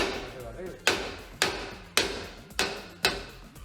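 Sharp metallic hammer blows strike at a steady rhythm, five evenly spaced hits ringing close by while parts are fitted on a camper van, with a faint background hum between strikes.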